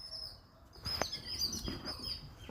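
Sparrows give a few faint, short chirps and tweets over quiet background hiss, heard from a little distance with no talking.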